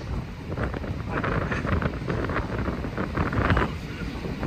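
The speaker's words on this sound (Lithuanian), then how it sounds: "štai va jūra, ateinu prie jūros, einam prie jūros, vanduo čia pat" At the Lithuanian seashore, wind buffets the microphone over the continuous rush of breaking sea waves, a loud, rough and unbroken roar.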